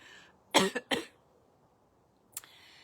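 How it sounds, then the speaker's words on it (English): Two harsh coughs close together, a short pause, then a third fainter cough, heard up close in cold air against a quiet outdoor background. "Sorry, I'm coughing."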